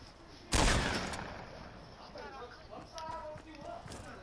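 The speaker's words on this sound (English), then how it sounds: "I'm gonna shoot." Video-game gunfire opens with a loud close burst, followed by scattered quieter shots and clattering effects, with game sounds and voices underneath.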